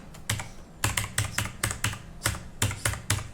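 Digits are typed on a computer keyboard, about a dozen sharp close keystrokes landing in quick uneven taps, some in pairs, with no voices.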